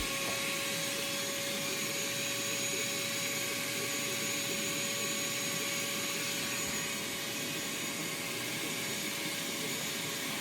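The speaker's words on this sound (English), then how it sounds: "we're going to get the vacuum cleaner and we're going to suck all of this stuff out" A vacuum cleaner sucks debris out of the heater box of a 2003 Dodge 3500 V10, giving a steady, loud, unbroken roar with a constant whine that lasts the whole time and has no talk over it.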